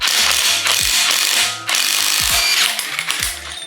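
A ratchet clicks rapidly and loudly up close as it tightens a bolt to draw the crankshaft pulley onto a junkyard 6.0 LS engine, running in several quick bursts with a brief pause midway.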